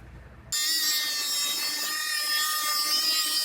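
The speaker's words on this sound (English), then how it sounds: "then I'm gonna cut right on the inside edge of this tape" A power cutting tool starts abruptly and runs steadily at a high, whining pitch while cutting into a damaged car body panel along a tape line, loud and close, continuing without pause after a brief quiet moment.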